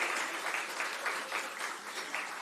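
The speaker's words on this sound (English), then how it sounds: "keep cheering for yourself," Students in a university event audience applaud and cheer, a dense, steady patter of clapping with rhythmic surges, moderately distant and continuous throughout.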